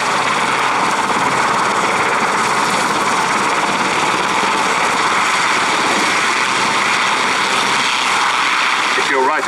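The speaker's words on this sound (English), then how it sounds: "you'll be getting an amazing idea of just how big this helicopter is" An RAF Sea King helicopter flying in an air display, its rotor and engine roar loud and constant throughout, with a commentator's voice running over the top.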